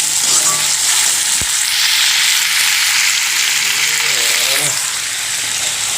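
Pork fries loudly in a wok, giving a dense, close, continuous sizzle with a few stirring scrapes and one sharp knock partway through.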